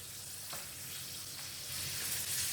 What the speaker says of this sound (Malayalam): എൻ്റെ ഇതിനകത്തോട്ട് കുറച്ച് പപ്പടം ഇട്ട് വറുത്തെടുക്കുന്നുണ്ട്